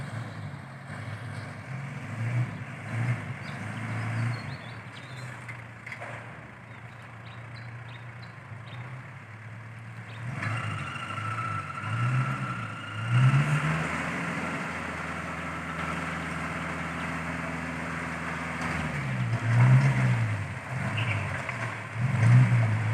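A small dump truck's engine runs while raising its dump bed, a steady low rumble that climbs in pitch and strain midway and holds for several seconds before settling back to idle, with no talk.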